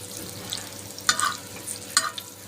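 Egg frying on a tawa griddle in oil and ghee with salt, a soft steady sizzle with two crisp spatula clicks close by.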